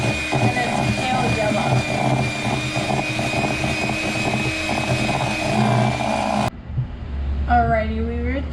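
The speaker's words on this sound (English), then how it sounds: "we're going to whip this until it hits our ribbon stage" A mixer whipping tres leches batter toward ribbon stage gives a steady, loud motor whir with a constant high whine for about six seconds, then cuts off and a voice speaks.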